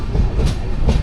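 A passenger train pulls into Sangameshwar railway station, heard from on board as a loud, close rumble with two rhythmic clickety-clack wheel beats over the rail joints, without speech.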